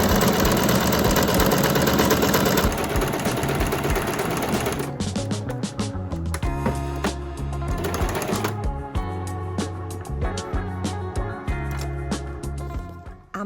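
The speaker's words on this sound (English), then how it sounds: "I'm also using the sewing machine today to add some bright zigzag stitching along the edges of the" A sewing machine runs zigzag stitching along the edges of a paper shaker on a handmade journal page, a rapid mechanical whirring that stops and starts, with bursts of needle chatter and pauses between runs.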